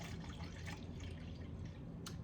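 Distilled water poured from a jug into a mixing container on a scale, a brief steady trickle and splash close by with a louder drip near the end.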